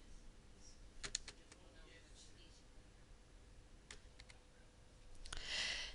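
Computer keyboard typing at a desk, scattered quiet key clicks in short bursts with pauses, close and faint, ending in a brief louder rustle.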